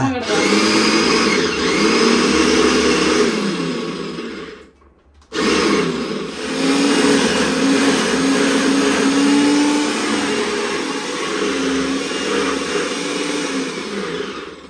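An electric juicer juicing oranges gives a loud, steady motor whir that stops briefly and then starts up again, with a voice talking over it.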